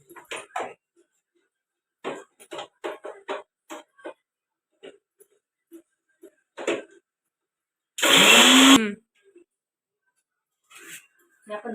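A kitchen mixer grinder whirs loudly in one short burst of under a second, blending curd with chopped ingredients for wedding-style mattha buttermilk, between stretches of someone talking.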